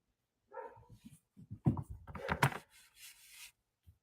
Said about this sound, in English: I hate these dogs. They just bark and bark at me.